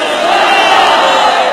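Crowd noise from a mass of people raising slogans at a political gathering, a dense, loud, continuous roar of many voices with no distinct pauses.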